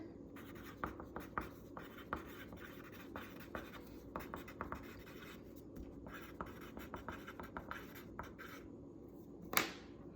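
Pencil or pen scratching on a sheet of scratch paper, close and quiet, with irregular short strokes and taps repeating throughout and a sharper scrape near the end.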